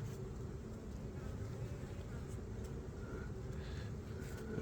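Honeybees buzz around an open hive during a check of swarm cells and queen excluders, a soft, continuous low hum with a faint whine of individual insects passing close.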